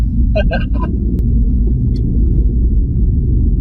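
A 2016 Audi S3 with quattro drive rounds a roundabout, its engine a steady deep interior rumble throughout, with someone speaking briefly early on over the drone.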